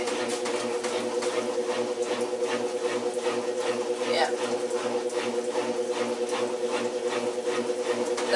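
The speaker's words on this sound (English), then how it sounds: "That is the sound of the pump." A GE washing machine pump runs with a steady mechanical hum and rapid rhythmic whirring that stays constant over several seconds at moderate level, close by in a laundry setting.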